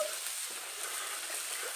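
Chopped onion sizzling in hot oil in a pan while rui fish curry is cooked, a steady hissing fry that holds throughout without pause and sits close and even.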